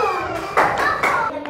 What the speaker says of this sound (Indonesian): tepuk tangan buat kelompoknya